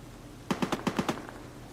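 A quick burst of about six evenly spaced machine gun shots from a video game, close and punchy, followed by a faint trailing shot, with no talking.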